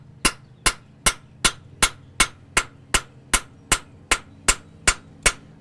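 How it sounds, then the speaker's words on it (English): A hand hammer drawing out a tool's edge toward the tip: thirteen sharp metallic strikes at a steady, even pace, close and loud against a quiet background. "you find the tangent point on top of this, and you just start hammering out towards the tip here."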